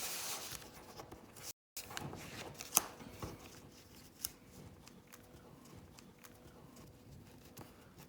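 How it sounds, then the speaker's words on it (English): Paper being folded to the center and pressed flat for an origami shirt, soft close rustles, creases and scattered taps at low level, with no talk. "fold it to the center, press it"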